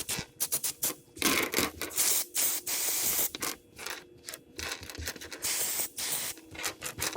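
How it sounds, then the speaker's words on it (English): Brake cleaner sprayed from an aerosol can onto ARP bolts during a 2014 Escalade drivetrain mock-up, heard as repeated close hissing bursts of varying length with short gaps, alongside faint handling and rubbing noises and no talk. "We're going to douse them in brake cleaner."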